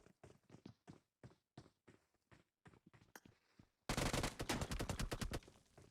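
Rapid gunfire from a battle royale room match in a mobile shooter game, starting as separated shots and then switching to a loud, dense burst of repeated blasts near the end.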